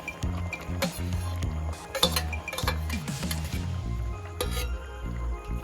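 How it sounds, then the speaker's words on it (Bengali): Metal clinks and scrapes as a pot lid is lifted and potato curry for a small-fish chorchori is stirred, several sharp taps against the pot over a soft sizzle. "এবার ঢাকা তুলে ভালো করে নাড়াচাড়া করে দেখবো আলুটা গলে গেছে কিনা।"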